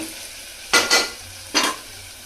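Onions frying in a pan sizzle softly, broken by two short bursts of stirring and scraping, close and alone with no talk.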